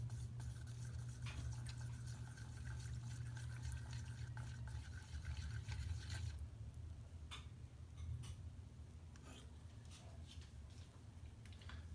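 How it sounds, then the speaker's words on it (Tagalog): A mixture of water, dry leaves and rocks stirred in a basin, faint swishing and light clinking taps scattered irregularly over a low steady background hum. "put the mixture of dry leaves, rocks, and water and stir."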